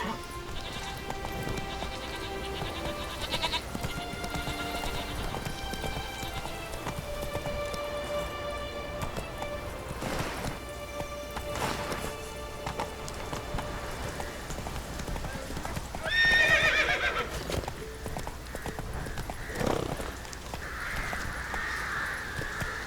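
Roach the horse's hooves clip-clop steadily in The Witcher 3 video game, with a brief neigh and game music and calls around.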